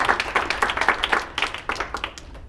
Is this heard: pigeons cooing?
no